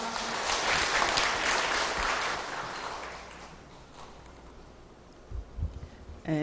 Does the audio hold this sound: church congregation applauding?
yes